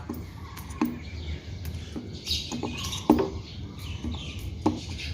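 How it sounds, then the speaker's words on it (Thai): Aloe vera leaves being chopped into small pieces with a knife to make organic fertilizer, a series of irregular close taps and wet cuts with quiet pauses between strokes. "แล้วก็จะหั่นเป็นชิ้นเล็กๆ นะครับ"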